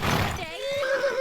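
A horse in the video game Kingdom Come: Deliverance II gives one loud, close whinny that falls into a wavering neigh, with no talk over it.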